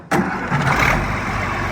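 An Oliver diesel tractor engine cranks and catches, then settles into a steady close rumble that carries on without pause.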